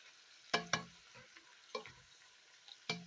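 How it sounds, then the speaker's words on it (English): Onions and 200 grams of diced tomatoes cook in a pot for Cameroonian-style okra soup, with a few sharp stirring knocks and light scraping over a soft background sizzle, no talking. "I go ahead and add my 200 grams diced tomato and let it cook for 5 to 8 minutes"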